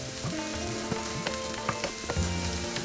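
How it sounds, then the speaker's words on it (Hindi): Garlic and ginger sizzle steadily in an oil-filled pan for baingan bharta, with occasional clinks and scrapes of stirring over a continuous close, moderately loud frying hiss. "Fry it for 2 to 3 more minutes"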